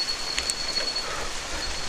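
Steady rain falls outdoors as an even, continuous hiss with faint scattered patters, no voices, holding at a constant moderate level throughout.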